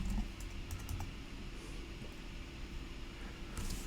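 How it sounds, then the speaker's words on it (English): Quick bursts of keystrokes on a computer keyboard while a password is entered on a Mac, light clicky taps clustered at the start and again near the end, close and clear over a low steady hum. "Oh, got to type the password correctly."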